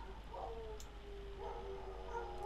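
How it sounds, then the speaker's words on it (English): Dogs barking in the background, faint and distant, a few soft barks and whimpers sitting under a steady hum near a computer. "You'll have to excuse the dogs barking in the background"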